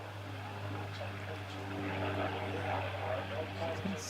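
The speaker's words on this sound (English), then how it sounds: "Spitfire or Hurricane?" A propeller aircraft, a Spitfire or Hurricane, flies over a Sussex league cricket match with a steady engine drone rising slightly as it nears, while people talk over it.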